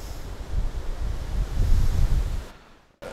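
Loud, gusty wind buffets the microphone in low rumbling surges at a cemetery in the Tarn, easing off and cutting out near the end.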